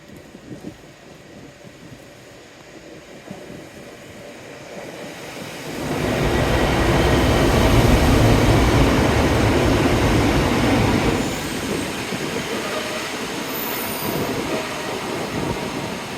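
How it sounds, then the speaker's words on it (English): A squeaky train passing through a station in pouring rain: steady rain hiss at first, then a loud rumbling, screeching pass of rail wheels for several seconds that eases back to rain and a fading rumble. "Yay! Squeaky train."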